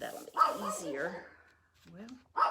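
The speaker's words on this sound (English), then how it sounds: "You can hear my dog barking because all the other dogs in the neighborhood are barking." A dog barks in short yelping bursts in the background while a person talks nearby, other neighbourhood dogs barking too.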